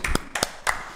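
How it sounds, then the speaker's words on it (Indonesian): Children at an online Sunday worship service clap their hands in four short, sharp bursts of two quick claps each, close and evenly spaced, with no talking. "Sekali dong tepuk tangan buat Tuhan Yesus adik-adik"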